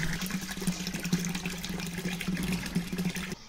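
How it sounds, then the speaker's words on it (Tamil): Water gushes continuously from a tap into a small tub, a steady splashing rush that cuts off abruptly at the end. "தண்ணி பிடிச்சிட்ருக்கோம்"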